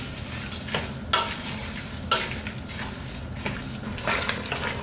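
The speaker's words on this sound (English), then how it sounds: "give that a stir" Raw cane sugar is stirred into a pot for strawberry moonshine, a spoon sweeping through the liquid in several slow, swishing strokes about a second apart over a low simmering hiss, close up and with no voices.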